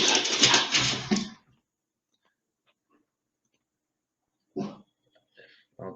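Pet dog reacting to a cat outside a window, brief whimpers and yips after a burst of noise, with quiet pauses between the sounds.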